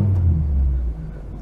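Austin 1300GT car driving slowly over an uneven car park on a large museum site, a close, steady low engine rumble that eases off partway through, with no talk.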